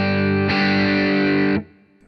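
A loud electric guitar chord through a Kinsmen Ethos overdrive pedal with boost rings out, thick and sustained with a boosted edge, then cuts off sharply.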